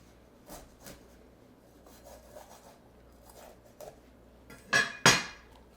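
A knife cuts a bell pepper on a cutting board for a vegan poke bowl, with a few soft taps followed by two sharp, loud cuts near the end.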